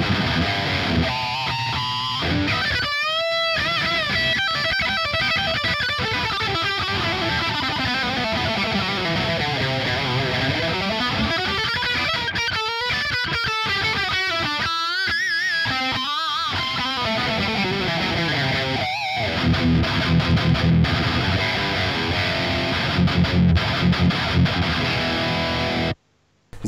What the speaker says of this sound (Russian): Отвратительный датчик. Я не знаю, он еще и фонит просто дичайше.